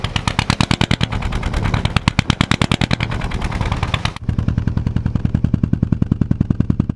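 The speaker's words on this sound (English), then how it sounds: "Here's what it sounds like without the muffler." Sailboat engine running with no muffler, a loud, harsh, rapid staccato of firing pulses that sounds almost like machine-gun fire, steady and close throughout, briefly dipping partway before carrying on.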